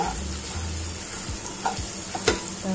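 Onion sautéing in a pan for kanda lasun masala, a quiet even sizzle close by with a few light spatula scrapes and ticks toward the end.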